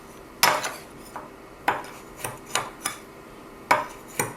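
Cocoa powder is mixed into cinnamon roll filling in a bowl, with about ten light clinks and scrapes of a utensil against the dish at an irregular pace, close and alone.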